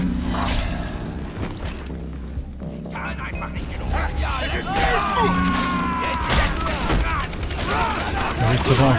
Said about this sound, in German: LMG.